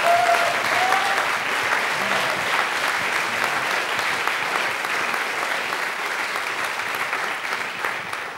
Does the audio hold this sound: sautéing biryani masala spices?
no